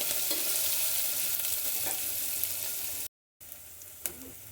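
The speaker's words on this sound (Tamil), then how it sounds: "வெங்காயம் வதங்கினதும் நசுக்கி வச்சுருக்கிற பூண்டு வதங்கிட்டு நல்லா" Onion and crushed garlic sautéing in a pan for a dried-fish curry, a steady close sizzle with occasional stirring scrapes, broken by a brief silent gap.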